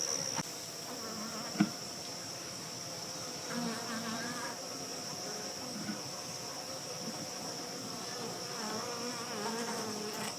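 Steady, dense buzzing of many honeybees droning continuously at close range, with a faint click near the start and no voices.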